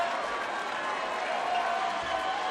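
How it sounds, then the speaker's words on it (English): Huntington fans in a high school gym cheer during a Huntington North at Bishop Luers boys basketball game after a foul call, forming a steady, broad crowd roar with mixed voices throughout. "Huntington fans cheering for the officials there that they finally called a foul on the Luers player"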